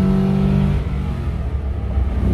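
A Toyota Land Cruiser V6 engine is held at high revs. The loud, close, droning roar has strong low harmonics that dip slightly and then climb again, and it runs without a break for about two seconds.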